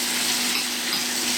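Chicken breast frying in butter in a pan gives a steady, dense sizzle, loud and close, holding evenly throughout with no voices.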